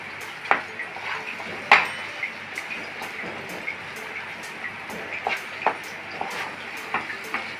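A spoon stirs leftover-rice halwa in a pan, giving repeated metallic scrapes and clinks in a loose rhythm over a soft background hiss.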